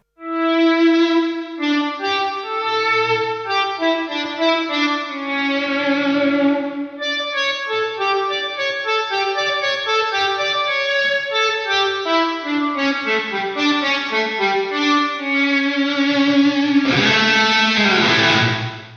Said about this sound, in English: You can even get some reverb style effects out of the multi-tap delay algorithms in here